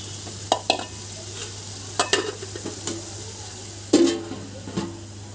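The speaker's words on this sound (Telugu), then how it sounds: "ఒక 5 నిమిషాలు మూత వేసుకొని వేయించుకుందామండి." Onions fry in a covered pan for biryani, giving a steady low sizzle. Several sharp clinks and scrapes of a spoon or lid cut through at irregular moments, close and fairly loud.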